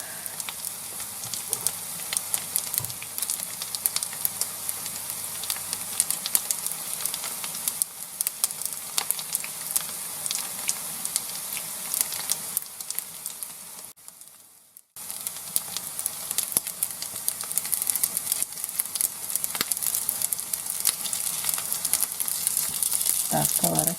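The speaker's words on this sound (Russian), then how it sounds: "Котлетки жарятся." Cutlets sizzle and spatter steadily in a hot pan over medium heat, a loud crackling fry that dips briefly to quiet before resuming.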